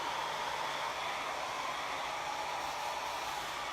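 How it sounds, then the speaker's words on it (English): A hair dryer blows steadily, a constant airy whoosh at even volume throughout. "so we're just going to use my hair dryer."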